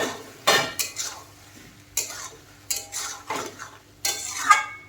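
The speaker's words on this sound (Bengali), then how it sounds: "উল্টে পাল্টে মশলার সাথে ভালো করে কষিয়ে নেব" Prawns, potatoes and pointed gourd are turned over with spices in a pan, a series of distinct metal scrapes and clinks in a loose rhythm over a quiet sizzle.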